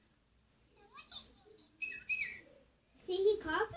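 A pet bird gives short, bright chirps and tweets at close range, scattered through the moment between quiet gaps, with a person speaking softly nearby.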